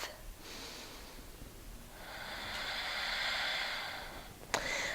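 Slow breathing during a yoga pose: a soft airy inhale and a longer broad exhale at close range, ending in a short sharp snort-like puff, with no talking.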